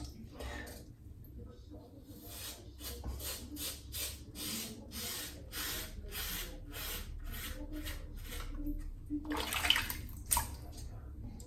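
A safety razor is shaken under warm water to rinse it, giving a rapid series of splashing, rattling bursts that build toward the end, with someone talking faintly alongside.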